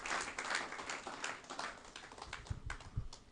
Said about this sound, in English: Please, a round of applause for Mr. President.